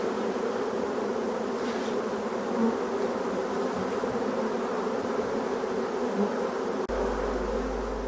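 Honeybees hum steadily around an open hive as the colony settles back inside, a dense, even drone close by with no voices, holding level throughout.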